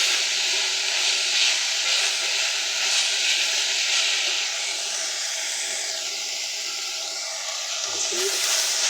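Onions browning in a pan for spaghetti bolognese, giving a steady, loud, continuous sizzle with a hissing steam texture throughout and a brief clink near the end.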